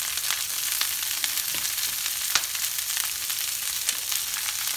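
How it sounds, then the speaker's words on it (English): Cabbage frying in a pot gives a loud, continuous close sizzle with small crackles and pops throughout and no voices. "Let that fry real quickly."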